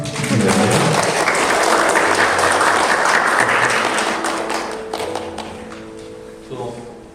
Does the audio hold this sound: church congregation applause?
yes